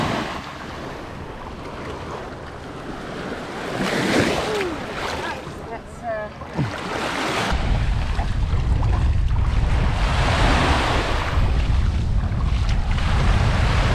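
Sea waves wash onto a beach on the island of Formentera, a steady surf roar under heavy wind buffeting the microphone, swelling louder in the second half.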